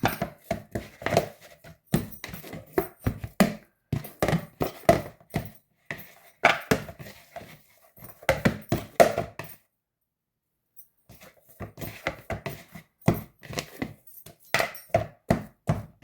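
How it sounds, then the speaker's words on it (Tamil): Dough for coconut poli is kneaded by hand with plenty of oil, giving close, rapid wet slaps and squelches in bursts, with one brief pause partway through. "இது கொஞ்சம் கூட எண்ணெயில் விட்டுக்கிட்டு தான் குழைக்கிறது"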